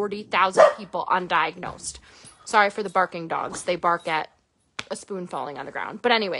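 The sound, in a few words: dogs barking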